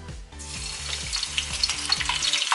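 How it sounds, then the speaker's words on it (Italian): Potatoes frying in hot oil at home, a steady loud crackling sizzle with bubbling throughout, alongside faint rhythmic music underneath and no talking. "Intanto si è pronto l'olio, quindi andiamo a mettere le patate a friggere."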